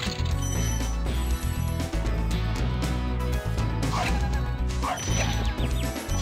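Dogs in Spyro the Dragon barking and yipping amid crashing, whacking game effects and background music, busy and loud throughout.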